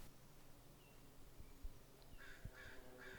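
Crows on a disc golf course give a run of three harsh caws in steady rhythm, fairly distant over faint outdoor background noise.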